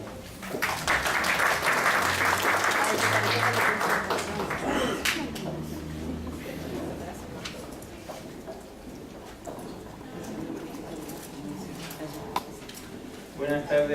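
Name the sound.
audience applause at conference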